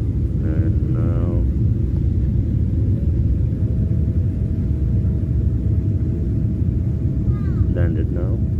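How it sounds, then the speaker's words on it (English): Airliner cabin during final approach and landing at Dubai International Airport at night, with loud, steady low engine and airflow rumble throughout, a faint whine and brief voices near the start and end. "Now landing, you see we almost going to touch the Dubai International Airport."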